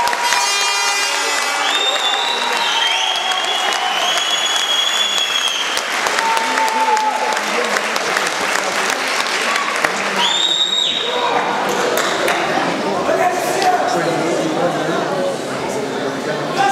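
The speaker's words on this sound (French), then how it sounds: "Je crois que d'ores et déjà quand même on peut les applaudir tous les deux." Crowd at a kickboxing event applauding and cheering the fighters after a hard bout, loud continuous clapping with shouts and whistles mixed in.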